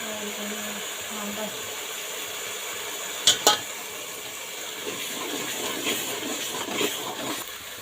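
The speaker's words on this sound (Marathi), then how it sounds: "मसाला भाजतोय आपण तेलामध्ये" Masala paste roasting in oil in a pan while being stirred, with a soft steady hiss, a few sharp clinks of a spoon against the pot, and faint scraping throughout, close by.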